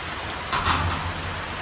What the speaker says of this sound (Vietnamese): Mưa tới luôn, lớn đằng kia luôn.